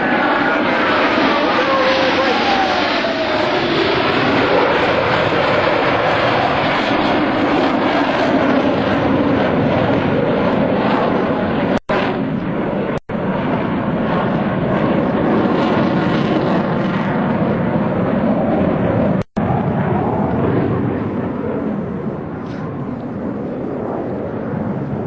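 US Navy Blue Angels jets performing brake turns at an Air National Guard open house in Rhode Island, a loud continuous roar of jet engines sweeping overhead for the whole stretch, with a public-address voice talking over it.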